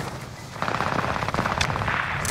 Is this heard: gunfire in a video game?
yes